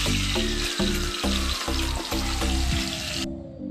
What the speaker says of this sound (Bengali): কড়াই বসিয়ে দিয়েছি তেল গরম হয়ে গেছে এবার এই মাছের মাথাগুলো দিয়ে দেবো একে একে